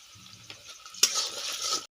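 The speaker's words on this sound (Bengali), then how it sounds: "একটা ছোট পেঁয়াজ কুচি নিয়েছি ছোট ছোট করে, আর একটা সামান্য ছোট্ট একটা কাঁচা লঙ্কা কুচি করে নিয়েছি, ভেজে নেব" Finely chopped onion and green chili hit hot oil in a pan and start frying. A few soft clinks come first, then a sudden loud sizzle that holds steady before cutting off.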